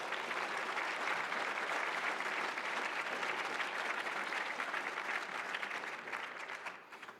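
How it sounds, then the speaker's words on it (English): A round of applause from an awards ceremony audience, dense and sustained clapping from a full room, even and fairly distant, tapering slightly at the end. "A round of applause is appropriate."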